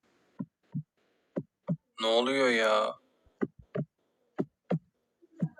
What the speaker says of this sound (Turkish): Niye kalp sesimi duyuyorum ki?